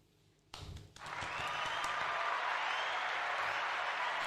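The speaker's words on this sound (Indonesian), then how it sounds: "Mari kita sambut dengan tepuk tangan yang meriah, Bapak Bambang Heru Subianto." Audience applause welcoming Bapak Bambang Heru Subianto, Deputi Bisnis Area Senen, onto the stage. A thump, then dense clapping swells after about a second and holds steady and loud to the end.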